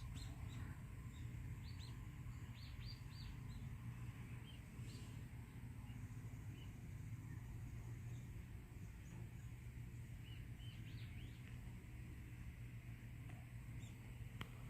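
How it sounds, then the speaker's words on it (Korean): Faint, distant bird chirps come in short scattered bursts over a steady low hum of background noise. "나무, 새소리"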